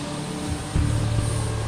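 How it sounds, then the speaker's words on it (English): Navy helicopter on the flight deck of a stealth warship starting its engine and engaging its rotor, a loud, steady turbine drone with a deeper rumble that swells partway through. "So they're doing engine startup and rotor engagement."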